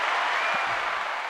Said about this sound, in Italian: vince Denise Trinca, a cui va l'applauso